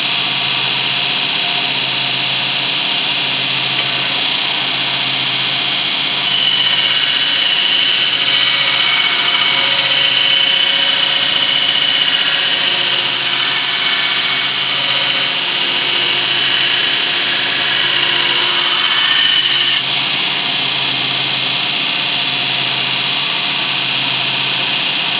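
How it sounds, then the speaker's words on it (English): A power grinder shaping a knife blade runs as a loud, steady, high-pitched whine that holds throughout with no talk over it. "About three more grinds on this, okay?"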